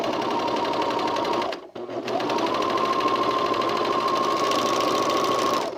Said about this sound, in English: I'm just going to use a serger since I'm set up and it's right in front of me.